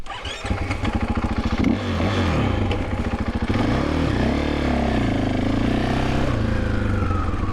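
Husqvarna FE501s dirt bike fitted with a Rekluse auto clutch, loud and close as it pulls away and rides, engine note rising and falling through revs with some mechanical clatter, no talking.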